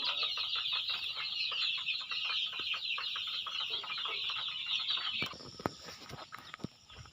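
Young chicks about two months old peep and cluck in a crowded coop, a busy continuous chorus of small high calls with occasional louder clucks near the end.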